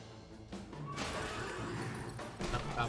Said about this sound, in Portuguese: Montaria, um cavalo.